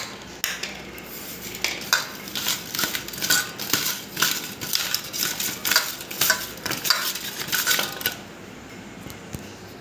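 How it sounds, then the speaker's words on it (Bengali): Bata fish being mixed by hand with ground spice paste, turmeric and salt in a bowl, making rhythmic wet squelches and light clinks in quick repeated bursts, close and fairly loud, then easing off near the end. "বাটা মশলাটাকে আমি তুলে নেব মাছের ভিতরে"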